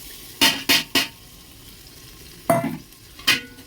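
A spoon makes five sharp scrapes across a pan while turmeric, coriander and cumin powders are mixed. Three quick strokes come together, then a pause, then two more, each close and clear.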